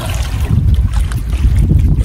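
A strong south wind buffets the microphone on a small fishing boat at sea, making a loud, continuous low rumble with a faint splash of water beneath it.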